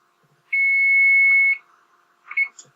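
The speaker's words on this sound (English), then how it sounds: "so there's our timer." A kitchen timer sounds one loud, steady one-second beep up close, followed by a short pair of quieter chirps, while molten lava cakes finish baking in a home oven.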